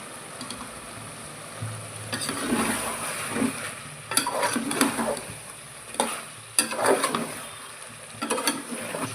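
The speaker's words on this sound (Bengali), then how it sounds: "কষানো কমপ্লিট।" Spices are sautéed for Hyderabadi chicken tehari in a pan, a soft sizzle under repeated stirring scrapes and clinks of the utensil, close and moderate in level.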